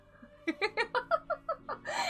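Minecraft chickens clucking in a video game, a quick run of about eight evenly spaced, bright clucks close by, ending in a rising squawk.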